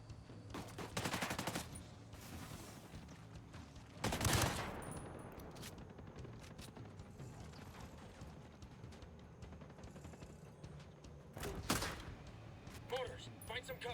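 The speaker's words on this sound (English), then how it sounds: "We got mortars coming." Mortar shells burst in Ghost Recon: Breakpoint as a few heavy, sharp impacts spaced seconds apart, one strong blast near the middle and another later, over quiet low rumble with voices talking between them.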